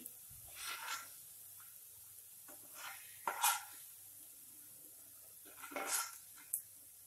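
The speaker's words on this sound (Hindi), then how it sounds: "अब हम गैस की फ्लेम को ऑफ कर लेंगे और सब्जी को एक बॉल में खाली कर लेंगे" Fried vegetables for pasta scraped from a pan into a bowl on a home stove: sparse, soft scrapes and clinks of a utensil against metal, with a faint light sizzle between them.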